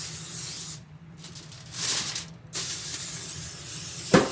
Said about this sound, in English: I forgot I need to spray my pan